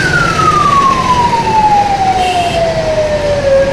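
A wailing ambulance siren sweeps slowly downward in pitch, loud and close, over a dense rumble of traffic noise from a traffic jam on the Gandhi Setu bridge in Bihar.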